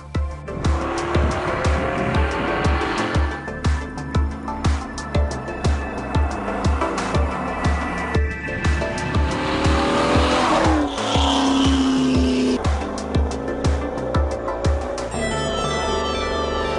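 An Allard race car lapping a track, its engine revving hard through repeated gear changes with squealing, skidding tyres, loud and close throughout without speech.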